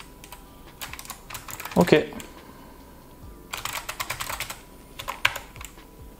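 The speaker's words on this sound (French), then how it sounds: "c'est pas spécialement plus bruyant que mon ancien clavier" A Logitech wireless computer keyboard being typed on in quick bursts of clicky keystrokes, with a short pause between bursts and a brief spoken word.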